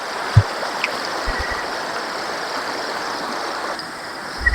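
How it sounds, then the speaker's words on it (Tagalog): Strong river current rushing steadily near a fishing net, a broad even wash of flowing water with a few low thumps and no talking. "Malakas na yung agos ng tubig"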